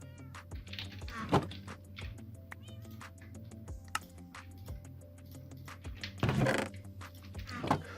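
Cats in Minecraft meowing, several short game-sound meows scattered across the stretch, with two louder bursts standing out against a quiet background.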